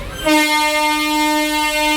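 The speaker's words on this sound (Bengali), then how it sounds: "ট্রেন ঢুকছে, যার জন্য আমরা দাঁড়িয়ে গেছি।" A train horn sounds one long, loud, sustained blast as a train comes into a railway crossing, after a brief moment of quieter ambience.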